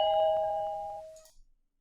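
A doorbell chimes inside the Japanese indie horror game Hyakki Yagyou: a clear, sustained ding that rings for about a second, then cuts off into near silence.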